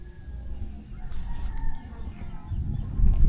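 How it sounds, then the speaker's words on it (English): Backyard chickens at a house construction site in the Philippines cluck softly amid low rumbling background noise, the sounds growing louder and closer toward the end, with no one talking. "How's our chicken? Is they good?"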